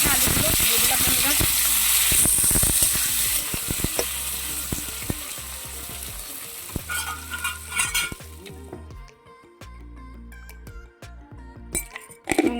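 Boiled potatoes dropped into hot oil with fried fenugreek seeds in a pan for a prawn fritter curry, loud sizzling and stirring with metal clinks, easing toward quieter frying and scattered clatter near the end.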